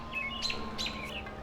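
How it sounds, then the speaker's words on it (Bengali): A bald eagle calls outdoors near water, giving thin, high chirping notes in two short bursts over faint background hum. "ও, এটা ইগল, এটা বল্ড ইগল,"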